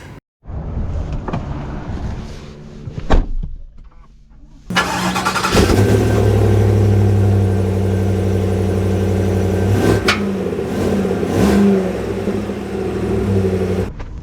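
A 2025 Chevy Suburban High Country engine starts after some quieter handling sounds, then settles into a loud, steady run and pulls away, with its mid-pitched drone continuing throughout.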